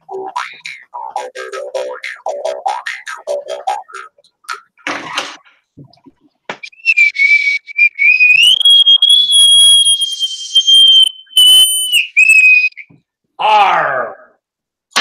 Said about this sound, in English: close us out with a juice harp and a bosun's whistle